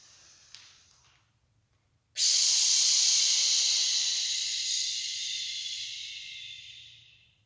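Children doing a yoga exercise draw one long loud breath in, an airy hiss that starts abruptly and slowly fades over several seconds after a quieter softer breath.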